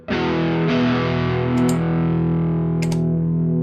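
Electric guitar run through a Quad Cortex with sine-wave pitch-shift modulation, sustained chords warbling and widening, loud and close, with a couple of brighter picked accents over the ringing tone and no talking.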